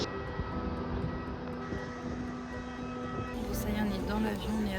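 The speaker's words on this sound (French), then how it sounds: "Putain, c'est un avion à hélice." Small propeller airplane's engine droning steadily, close and constant from inside or beside the aircraft, with people talking over it.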